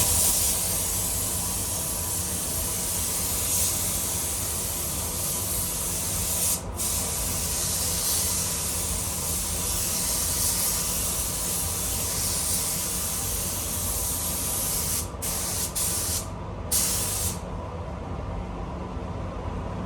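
Spray gun applying lacquer to a Honda Integra DC5 during a full repaint, a steady loud hiss running almost continuously with a few brief breaks near the end.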